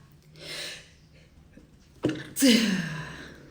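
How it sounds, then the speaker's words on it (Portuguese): A sharp inhale, then a single loud, close sneeze bursting out and trailing off into breath. "Peraí que eu vou espirrar."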